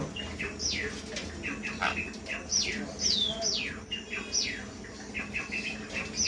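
Pet lovebirds and cockatiels at a bird sale chirp and tweet continuously in sharp, overlapping calls, close and moderately loud over a busy background hum.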